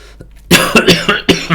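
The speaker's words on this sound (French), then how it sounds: "je tousse toujours beaucoup" A close, loud fit of coughing, four or five harsh bursts in quick succession.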